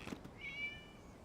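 A single short cat meow in Genshin Impact, faint and thin, rising briefly over quiet game ambience with a couple of soft taps before it.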